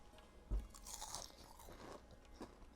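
Crispy fried kale chaat is bitten with one loud close crunch, followed by a run of quieter crackling chews and a final crunch, with no talk over it.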